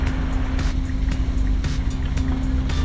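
A Vietnamese fishing boat's engine rumbles steadily and loud near the harbor at Cà Ná, a low continuous drone with faint water noise around it.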